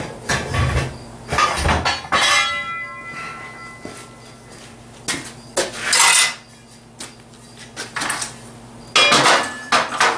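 Pieces of scrap metal, some thin and clean and some thick and dirty, being handled before plasma cutting, giving loud clanks and ringing metallic clatter in irregular bursts, close by with no talk.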